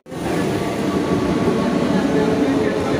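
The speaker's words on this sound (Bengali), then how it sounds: "ট্রেন ঢুকে গেছে, এই যে ট্রেন ঢুকে গেছে" A train pulls into a station platform on a quiet midday run, a steady loud rumble of wheels and carriages rolling in close by for the whole stretch, with no talk over it.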